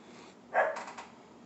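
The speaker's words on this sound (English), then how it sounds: "I have no idea what they're barking at." One short dog bark, a bit muffled and at a distance, followed by a brief fading yip against a quiet room.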